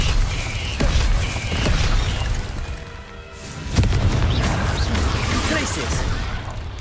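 Booming blasts from the Confringo spell in Hogwarts Legacy, a couple of heavy explosive thumps amid dense, loud game combat noise.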